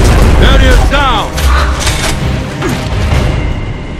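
Mortar shells exploding in the Gears of War: Judgment video game: heavy, booming blasts with deep rumble, layered over dense battle noise and mechanical clatter, loud and close throughout.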